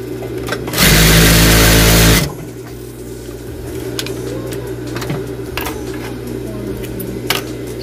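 A high-speed industrial sewing machine, just adjusted for its rotating hook and timing, races through one loud, steady burst of stitching lasting over a second, followed by quieter motor hum and light handling clicks.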